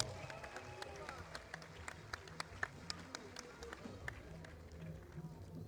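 Applause rises at a party congress as a foreign delegation arrives, scattered claps cutting through a murmuring crowd and an announcer's voice over a low hum.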